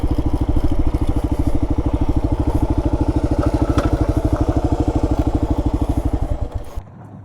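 A 2005 Kawasaki KLR 650 motorcycle pulls up in sand, its engine thumping in a steady, close, loud rhythm that slows briefly before cutting out near the end, leaving quiet.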